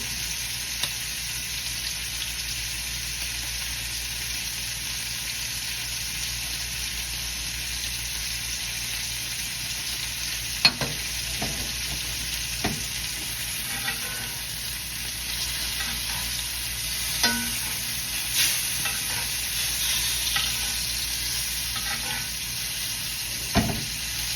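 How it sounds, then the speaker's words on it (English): Filet mignon steaks sizzle steadily in a hot pan while being basted with garlic and rosemary, a constant broadband hiss broken by occasional sharp spits and clinks of the spoon. "baste these with the garlic"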